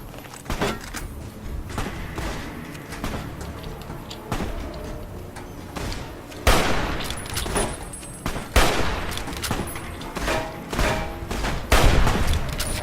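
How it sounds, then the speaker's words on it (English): Repeated gunshots from a hunting rifle in Fallout: New Vegas, sharp loud cracks spaced a second or two apart, with clattering reload and handling noises between them. "Hunting rifle."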